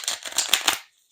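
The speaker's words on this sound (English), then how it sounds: "It's called a riffle shuffle. We call it that because the cards riffle into each other." Playing cards riffle-shuffled, a fast run of dense crisp flutters lasting under a second close to the listener, then cutting to silence.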